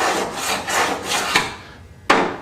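A screwdriver ground with a dovetail tip scrapes old glue and gasket out of a sifter deck's dovetail track in repeated rasping strokes, close and steady, ending with a sharp knock.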